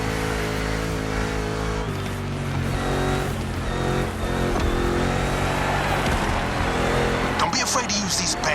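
Monster truck racing engine in The Crew Motorfest, a loud droning motor rising and shifting in pitch with revving, running under a voice talking throughout.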